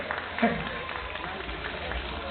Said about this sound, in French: vous allez applaudir le vainqueur, le premier vainqueur de cette belle journée de Pentecôte, Jordan Thierry